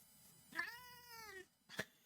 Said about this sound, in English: Yes, she is a loud cat.